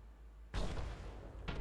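A cannon firing in the Alpine video game Mundaun, aimed at glaciers: one sudden loud boom after a quiet stretch, a sustained rumbling blast, then a second burst near the end.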